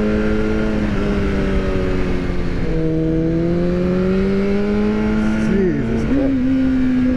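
An Aprilia RSV4 1100 Factory or BMW HP4 Race superbike engine heard from the rider's position on track, a loud sustained howl with pitch shifts as it revs and changes gear, while someone speaks over it.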